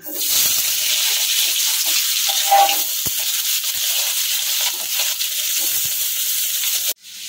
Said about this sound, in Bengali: এখন কেটে রাখা আলুগুলোকে হালকা ভেজে তুলে নেব।